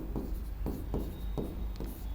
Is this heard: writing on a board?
yes